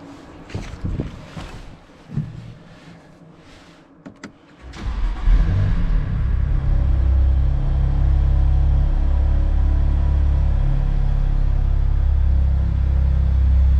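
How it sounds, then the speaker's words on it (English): A car sitting six weeks in a garage cold-starts at about 5–6 °C: quiet shuffling, then the engine catches at once and settles into a loud, steady low rumble that holds to the end. "Now this is gonna be a cold start"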